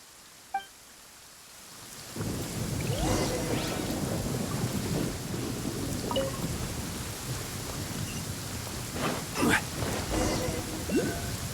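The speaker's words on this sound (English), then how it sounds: "Uh-oh! Lightning storm!" Thunder rumbles and steady rain pours during a lightning storm in the video game Genshin Impact, a sharp click early on, then loud continuous downpour with rolling thunder and brief crackling strikes throughout.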